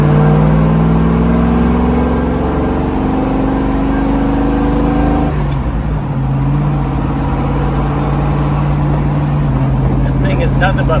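A 1969 Chevrolet Camaro SS driving fast, its engine droning loud and close, easing off with a pitch drop around midway before settling into a steady cruising hum.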